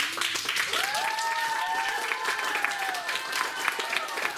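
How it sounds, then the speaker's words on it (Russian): Enthusiastic applause for the participants of a school parliament chairmanship candidates' debate, steady dense clapping from a room of students for several seconds, with some tonal sounds and voices mixed underneath. "бурными аплодисментами каждого из участников еще раз поздравим с этим"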